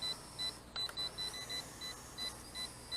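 JJRC Tracker H55 drone controller beeping on low battery, a repeated short high electronic beep in an uneven rapid pattern, close and clear over faint background noise.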